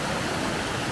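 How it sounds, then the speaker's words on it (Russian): Strong mountain stream rushing hard, a dense, steady roar of churning water that fills the whole second with no pauses, close and loud. "Какой сумасшедший тут поток воды."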